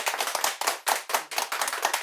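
An audience at a talk on peace in the Bible gives steady, close applause: many hands clapping densely with sharp individual claps standing out throughout.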